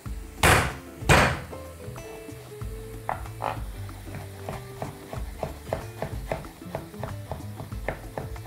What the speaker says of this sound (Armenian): Ճզվում ենք եւ մանր կտրատում։